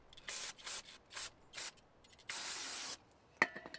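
Several short bursts of aerosol brake cleaner hiss close by on car suspension parts, followed by one longer sustained spray, then a light metallic clink at the end.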